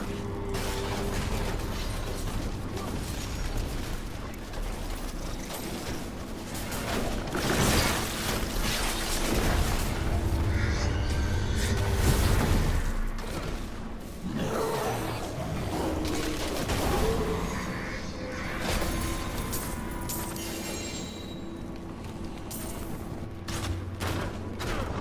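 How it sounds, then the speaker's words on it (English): Demon Hunter sentry turrets fire continuously in Diablo 3 combat, with rapid mechanical bursts, clanks and impacts layered over a dense battle din. "my sentry turrets are summoned and at a maximum of 4 turrets"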